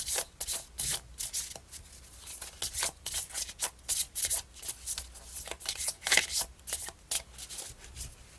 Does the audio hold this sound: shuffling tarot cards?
yes